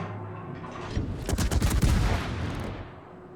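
Heavy naval gun salvos from a warship in World of Warships boom in a dense, rumbling cluster, building to a loud peak midway and then rolling off, with no talk over them.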